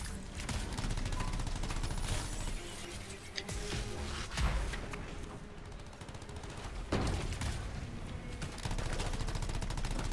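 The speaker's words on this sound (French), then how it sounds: "ce flingue il a une cadence de tir un peu différente de celui que j'avais avant" Rapid automatic gun firing in the video game Anthem, a dense, loud stream of shots running through the whole stretch with short pauses and a few heavier blasts.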